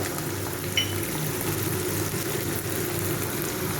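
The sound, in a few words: vegetables frying in a pan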